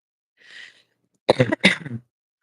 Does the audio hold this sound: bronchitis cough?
yes